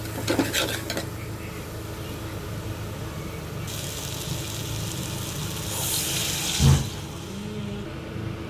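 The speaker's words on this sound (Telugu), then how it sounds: "ఇందులో ఇప్పుడు తగినంత నీళ్ళు వేసుకొని పులుసు అయితే పెట్టుకోవాలి." Water poured into a pan of cluster bean (goru chikkudu) curry in a home kitchen, a steady splashing pour with brief clinks of the pan and utensils near the end, close and moderately loud with no talking.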